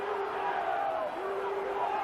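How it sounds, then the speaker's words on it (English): Crowd roaring and cheering at Cougar Park for the Keighley Cougars during a 1998 rugby league match against Swinton, a dense, steady wall of voices with rising chants, loud and continuous throughout. "Cougar Park on fire just at the moment. The crowd getting right behind the Cougars"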